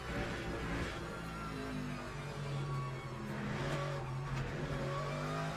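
A race car in a racing video game laps Le Mans, its engine whining and revving steadily with shifting pitch through the corners, loud and close and with no talk.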